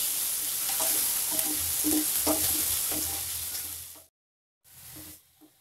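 Sliced onions fry in a pan with turmeric until browned, giving a steady sizzle with scraping stirs. The sizzle cuts off abruptly, goes silent briefly, then returns more quietly.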